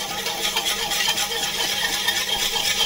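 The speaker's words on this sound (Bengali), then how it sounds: "দুধ, ডিম, চিনি এখন ভালো করে মিক্স করে নিচ্ছি আমরা।" Milk, eggs and sugar being whisked together in a bowl for pudding, a steady rapid stirring and scraping that runs continuously, close and fairly loud, with no talking.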